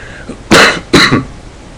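Two loud, harsh coughs close together, each a rough burst of breath, with quiet between.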